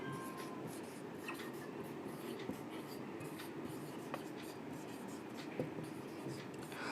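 Steady scratching of writing on a board during a chemistry lesson on atomic structure, a continuous rough rubbing with a few faint taps and knocks, close and fairly quiet, with no voice over it.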